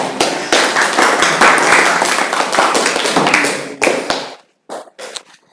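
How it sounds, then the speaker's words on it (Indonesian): Classroom of students clapping for a classmate, a close, loud burst of uneven hand claps that tapers off after four seconds into a few scattered final claps. "beri tepuk tangan buat teman kalian nih"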